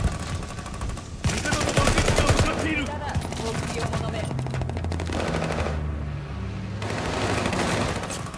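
In the video game Call of Duty: Vanguard, a Whitley light machine gun fires in sustained automatic bursts, loud and continuous throughout, with the gunfire dominating any other sound.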